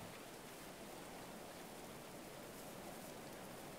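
Steady, soft hiss of rain falling without pause in the video game Going Medieval, even and faint, with no voices or other sounds.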